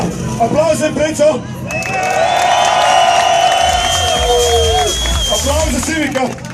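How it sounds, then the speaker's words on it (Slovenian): A crowd at a Japanese car meet exhaust battle in Ljubljana cheers and whoops for a Subaru Impreza, with loud, rising hubbub and scattered shouts. "Publika, aplauz za Imprečo."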